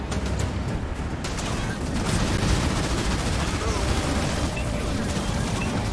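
Battle gunfire in the real-time strategy game Halo Wars 2 as a base comes under attack, dense continuous rattling shots and booming explosions blending into a loud, unbroken wall of combat noise.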